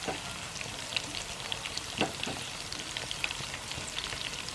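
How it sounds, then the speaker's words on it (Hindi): Whole red chillies, green chillies and cumin sizzling in hot oil for a Hyderabadi khatti daal, a steady, fairly quiet crackle with scattered sharper pops and no voices. "इस टाइम पर गोल साबुत मिर्चें डाल दें, ग्रीन चिलीज, ज़ीरा, हल्का सा इसको मिक्स करें।"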